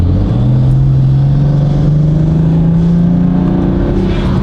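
BMW F82 M4 with a Valvetronic exhaust on the move, a loud, close engine drone that climbs steadily in pitch as the car accelerates, with a rough raspy exhaust note throughout.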